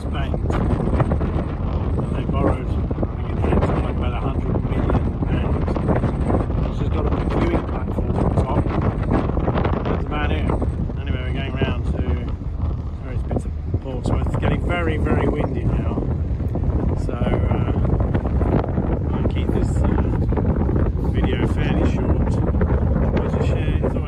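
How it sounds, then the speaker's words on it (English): Heavy wind buffets the microphone in constant gusty roaring, with a voice speaking intermittently over the blustery noise. "very, very windy"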